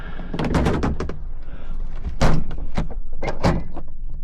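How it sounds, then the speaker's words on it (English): The airstair door of a 1960 Beechcraft Model 50 Twin Bonanza being pulled shut up close, several knocks and rattling clunks with a sharper slam midway and another thud near the end. "Closing the airstair door."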